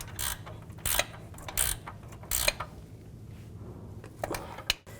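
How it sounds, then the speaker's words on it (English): A 19mm ratchet wrench tightens the control arm nut on a 2000-2006 Chevy Tahoe, with several short bursts of close metallic clicking separated by quiet pauses, a final quick run of clicks near the end. "19mm ratchet wrench."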